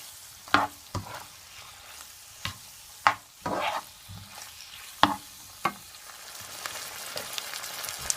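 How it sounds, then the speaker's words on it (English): Beef tortilla filling with ketchup and hot pepper sauce stirred in a pot, a series of irregular scraping clinks from the spoon over a faint sizzle, close and alone. "Give it a stir."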